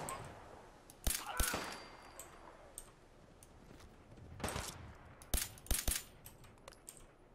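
Pistol shots in the video game Fallout 4, several sharp cracks spaced irregularly, a pair early and a quick cluster later, over quiet ambience with soft clicks between.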